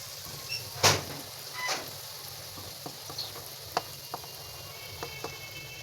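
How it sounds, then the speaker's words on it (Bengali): Boiled chickpea paste goes into a kadai for halua, with a muffled thump and soft sizzle followed by scattered light scrapes and taps of stirring, quiet and close. "এগুলো আমরা এই কড়াইয়ের মধ্যে ঢেলে দেব আস্তে আস্তে।"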